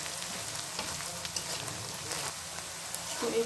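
Onions fry in a pan while Bangladeshi tripe fry is being cooked, giving a steady, dense sizzle and crackle that holds throughout at close range.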